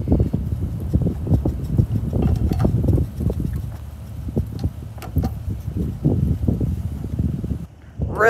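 Steady wind rumble buffets the microphone throughout, a low gusty roar with occasional rattles and knocks nearby.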